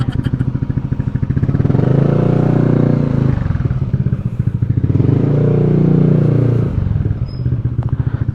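A motorcycle engine idles and putters steadily up close as the bike is brought in through a gate, a loud continuous rumble with light clatter and no talk.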